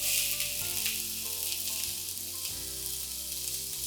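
Onions and garlic sweating in oil in a hot pan, a steady bright sizzle and crackle that runs continuously, close and even, with light stirring.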